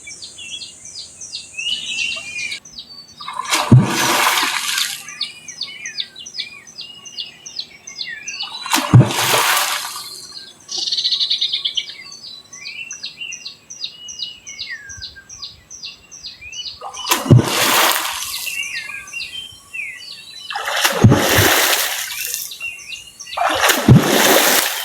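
Water is slapped and splashed hard to scare fish while fishing: five loud, separate splashes spaced several seconds apart, with birds chirping and calling steadily in between.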